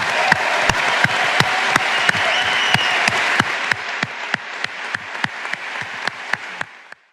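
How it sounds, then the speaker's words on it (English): A large audience at the Web Summit applauds steadily throughout, a dense wash of clapping with sharp louder claps standing out, before the applause cuts off abruptly at the end. "I just want to say that a huge round of applause"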